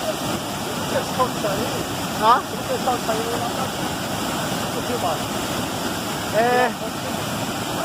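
Waterfall at Presidente Figueiredo, Amazonas, with cold water: a steady, dense roar of falling water fills the scene, while several people talk and shout briefly over it.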